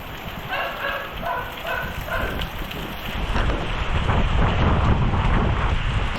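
Typhoon Aghon lashes the area with strong gusting wind and heavy rain, a loud, continuous roar that builds in the second half, with microphone buffeting and a brief intermittent tonal sound early on.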